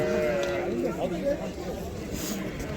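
Sheep bleat repeatedly amid other livestock at a busy animal market ahead of the Eid holiday, with people talking nearby under a steady murmur of voices.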